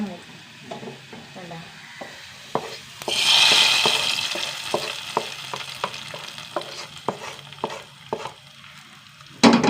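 Fried onions in hot oil are poured into a beef curry, setting off a loud burst of sizzling that fades into a softer crackle. Sharp clacks of a spoon stirring follow at close range.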